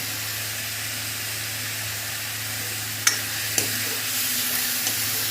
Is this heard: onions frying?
yes